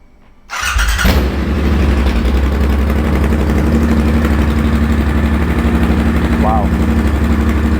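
A Triumph Bobber motorcycle with a Motone H-Bomb exhaust, baffle removed, fires up after half a second of quiet and settles into a loud, deep, bassy running note that holds steady throughout.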